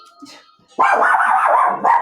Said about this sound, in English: There's another little dog walking by.